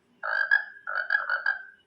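A frog-croak notification tone plays from a Xiaomi 11 Lite NE 5G phone as two clean, bright rattling croak bursts separated by a short gap, clear against silence.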